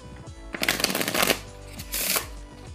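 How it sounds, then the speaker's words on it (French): A deck of playing cards is shuffled in two quick riffling bursts, crisp fluttering rattles close by with a short pause between them. "On peut très bien mélanger le jeu"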